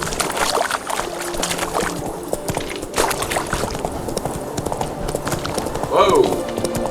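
A horse gallops in The Witcher 3, its rapid, steady hoofbeats running throughout among game ambience, with a voice speaking over it and a louder flourish near the end.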